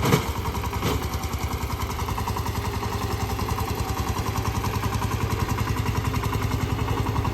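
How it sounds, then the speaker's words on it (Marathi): A tractor ploughing a farm field chugs close by in a steady, rhythmic pulse with no pauses, and no voices are heard. "इकडे बघा मस्तपैकी ट्रॅक्टर लावले आहे त्याला"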